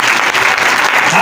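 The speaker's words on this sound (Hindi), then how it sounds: "जोर से तालियां यीशु के लिए" Applause from a church congregation during a Hindi-Urdu sermon, a dense, loud wash of clapping filling the whole short stretch with no break.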